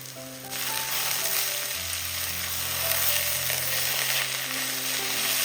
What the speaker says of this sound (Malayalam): ഇനി ഇതിലേക്ക് നമ്മൾ കട്ട് ചെയ്ത് വെച്ചിരിക്കുന്ന പ്ലാവിൻ്റെ തളിരില മുഴുവനും ഇതിലേക്ക് അങ്ങ് ഇട്ട് കൊടുക്കാം